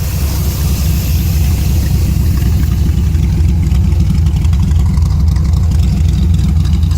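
A Mercruiser marine V8 swapped into a Chevette idles steadily and loudly at close range, a deep, rumbling low-end throb running throughout with no pauses and no talk, while smoke burns off the manifolds.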